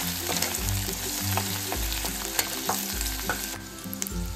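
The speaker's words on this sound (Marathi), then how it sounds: "आलं लसूण पेस्ट सुद्धा मस्त अशी परतून घेतली आपण" Ginger-garlic paste sautés in a pan for chole, a dense close sizzle with a rhythmic scrape of a spoon stirring roughly every second, no speech over it.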